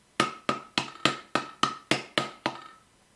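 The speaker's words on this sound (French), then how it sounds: "servez-vous d'un tournevis comme marteau, c'est vraiment conseillé" Nine sharp, evenly spaced metallic strikes ring out as a screwdriver is used as a hammer to tap a piston into a 200cc four-stroke kart engine during a rebuild. The blows are close and loud, each with a short ringing decay.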